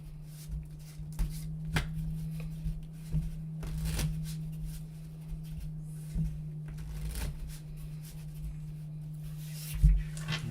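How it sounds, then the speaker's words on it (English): A deck of playing cards being shuffled up close during a magic session, soft riffles and light taps recurring at intervals over a steady low hum, with no talking. "Doing a close shuffle, that does look exactly like it."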